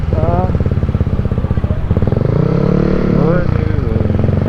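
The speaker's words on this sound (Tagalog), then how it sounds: "nag-brake pa tong motor" Motorcycle engine droning steadily on a mountain road toward Cervantes and Ilocos on the way to Sagada, a close, continuous hum with pitch shifts as it slows, under ongoing conversation.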